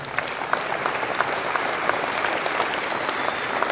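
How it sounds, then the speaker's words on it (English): An audience applauds for a group of about forty students at a high school ribbon-cutting ceremony, a steady, dense clapping that holds evenly for the whole stretch without pause. "I'd like to give them a round of applause."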